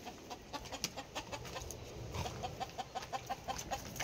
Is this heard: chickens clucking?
yes